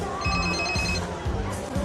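A telephone rings in a film scene to signal an incoming call, a repeated electronic trill that is moderately loud under a low murmur of crowd and club noise.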